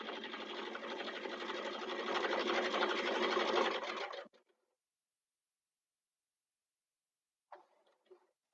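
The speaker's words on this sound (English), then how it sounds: "We just sew down 3 sides to secure it in place." A sewing machine stitches down three sides of a sling bag, running steadily and fairly close for about four seconds, then stops, followed by a few faint handling noises.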